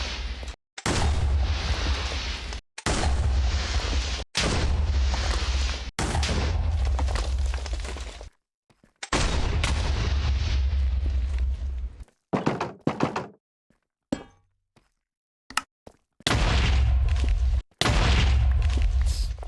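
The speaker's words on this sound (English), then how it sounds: "As I waited in another room, I could hear the enemy explosives." Enemy explosives blow up in a bunker in modded Minecraft: a series of loud, booming blasts, each several seconds long and separated by short silences, with a few scattered smaller bursts near the end.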